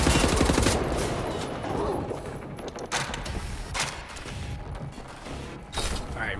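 Gunfire in the first-person shooter Wolfenstein: The New Order, loud bursts of automatic weapon fire with mechanical clanks and a few heavy booms, played close and dense throughout.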